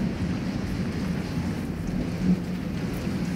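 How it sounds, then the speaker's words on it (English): Steady rain with a low rumble of thunder, staged as a storm sound effect during a live theatre performance, a continuous wash of moderate loudness with no talk over it. "the rain isn't like the rain in England. It falls like stones and hurts your head."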